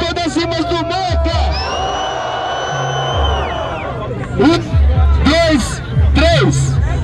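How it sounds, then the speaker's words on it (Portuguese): A crowd at a street MC rap battle cheers and yells in a loud sustained surge that rises again near the end, while an amplified voice calls over it. "Barulho pra quem gostou das rimas do Mota!"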